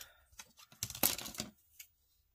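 Scissors snip through material in a few quick, close cuts, faint clicks and a short crisp burst in the middle, with soft quiet handling before and after.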